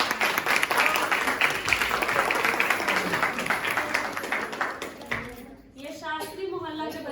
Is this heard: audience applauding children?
yes